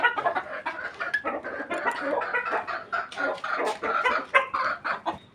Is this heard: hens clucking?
yes